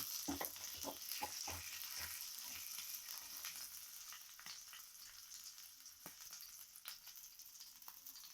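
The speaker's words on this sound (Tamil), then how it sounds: "ஃபிஷ் ஃப்ரை தயாராகிடுச்சு." Masala-coated fish frying in a pan for a crispy spicy fish fry, a steady quiet sizzle with a few soft taps and clicks early on, no voices.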